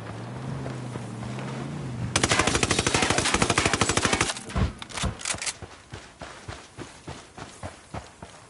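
Ghost Recon Wildlands gunfire: a sustained rapid burst of automatic fire, loud and close, then scattered shots followed by steady running footsteps.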